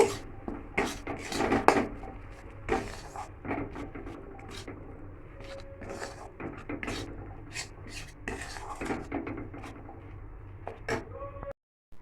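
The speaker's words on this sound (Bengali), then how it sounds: "এবার এটাকে ভালো করে আমি নাড়াচাড়া করব" Mughlai egg paratha spice mixture with Kashmiri chilli and garam masala stirred in a pan, giving steady scraping and rubbing strokes with frequent sharp utensil knocks, close and fairly loud throughout.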